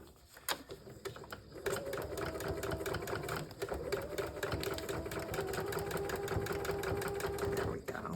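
A sewing machine stitches squiggly lines back and forth over fabric strips to make a textured topper, running as a steady close mechanical whir after a brief start, with a few clicks at the beginning and end.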